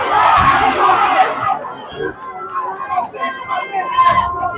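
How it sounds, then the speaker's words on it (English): A boxing crowd at a live event in Llanelli, a loud roaring cheer that swells at first and then settles into a steady murmur, with a commentator talking over it. "And a really good crowd here"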